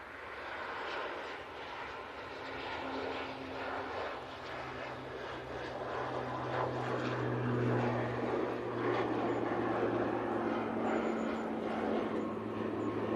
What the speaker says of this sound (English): There goes that Aer Lingus now. And they are off to, and I can get on that, off to Dublin.